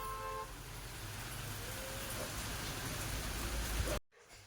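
Steady rain falls in a village on a festival day, a soft constant patter close by with a faint car horn tone in the background, and it cuts off near the end.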